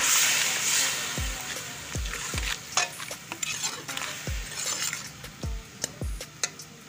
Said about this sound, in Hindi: ये थोड़ा सा पानी शामिल कर रही हूँ, मसाला अच्छी तरह मिक्स हो जाएगा